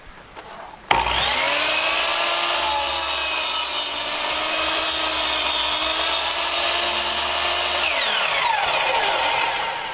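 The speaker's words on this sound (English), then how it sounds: "we had to swing the saw around the other way, and we're cutting about 1/8 inch past the line" A power saw cutting through deck rail wood, a loud sustained whining cut that starts abruptly after a brief quieter moment and winds down near the end, close and alone.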